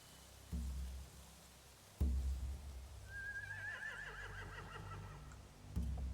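A horse gives a long, shrill, quavering whinny between a few dull thumps, heard alone and slightly distant.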